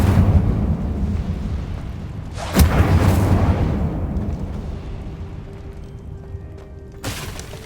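The Incendio fire spell is cast in a Hogwarts video game, a rumbling burst of flame with a sharp crack in the middle, fading into a low roar before another sharp hit near the end.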